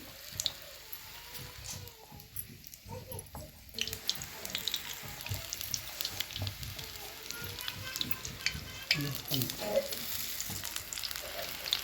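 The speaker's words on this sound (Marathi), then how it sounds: "दुसरं पण तळून घ्यायला लागलेत बघा भजी" Bhaji fritters fry in hot oil with a steady crackling sizzle, close and continuous, growing busier partway through.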